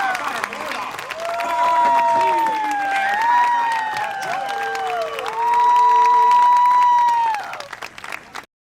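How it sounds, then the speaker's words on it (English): Firefighters at a Miami fire academy graduation are met with sustained crowd applause, while an amplified announcer voice and ringing tones carry over the clapping throughout. "how about we get a strong, loud round of applause for"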